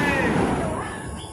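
A single loud New Year firework bang bursts at the start and decays into a rumbling tail.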